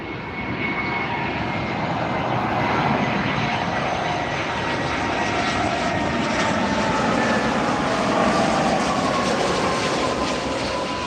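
Airplane engines roar at close range on a runway at LAX airport, a loud, even, sustained rumble and whine that holds for the whole stretch without talk.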